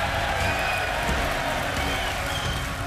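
A snooker crowd at a World Championship final applauds and cheers, a dense, steady wash of clapping heard from a distance backstage.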